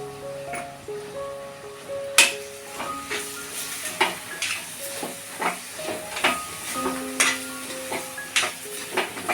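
Ground soybean burji stirred and fried in a pan, a soft steady sizzle broken by repeated sharp spatula scrapes and clinks against the metal, close and fairly quiet.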